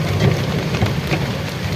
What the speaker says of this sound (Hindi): ज़ोर ज़ोर की बारिश आ चुकी है।